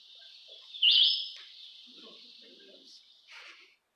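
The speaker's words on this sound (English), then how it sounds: "That sound is produced by a songbird." A songbird's call played as an example: a sustained high whistle with a sharp louder chirp near the start and a brief second burst later, fairly faint against a quiet background.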